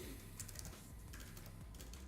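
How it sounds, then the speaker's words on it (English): Steady, rapid typing on a computer keyboard, a close continuous patter of key taps over a dense background hum, with no talking. "Just so I don't have to keep typing that over and over again."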